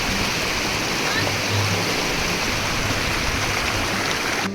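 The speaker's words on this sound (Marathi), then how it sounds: "हे फक्त जे झऱ्याचं पाणी होतं जे माझ्या मागं दिसतं तुम्हाला" Stream water near the waterfall at Madhe Ghat in the monsoon rushes in a loud, steady, close-up roar that runs unbroken throughout.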